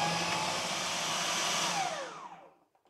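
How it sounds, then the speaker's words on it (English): A food processor whizzes cold butter and flour for an apple crumble topping, a loud, steady high whirring that winds down and stops, followed by a few light clicks. "So we'll just give this a whiz with the flour and the butter first."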